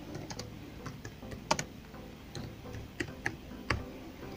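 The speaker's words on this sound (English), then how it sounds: "So you just type the document as fast as you can." Someone types a document on a computer keyboard: soft, irregular key clicks at close range, with a few louder, sharper keystrokes.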